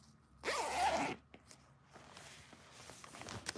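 A sewn-in blind zipper is pulled closed in one quick, close zip lasting about half a second, followed by faint handling rustles of the fabric.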